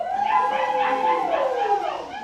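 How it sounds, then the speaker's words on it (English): Dogs howl and yip in a drawn-out, wavering chorus whose pitch rises and falls, loud and close, with no talking. "Dogs even agree, the barking dogs of Burning Man"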